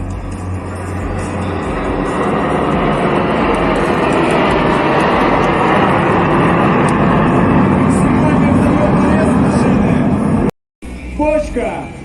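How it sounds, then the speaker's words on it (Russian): Six MiG-29 fighter jets fly a barrel roll in the sky over Tatarstan, making a loud, continuous broadband roar that holds steady for about ten seconds, cuts out briefly, then resumes. "Бочка с составом 6 истребителей МиГ-29 в небе Республики Татарстан."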